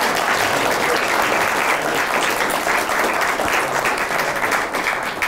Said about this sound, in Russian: аплодируем мы не столько мне, сколько храбрости этих людей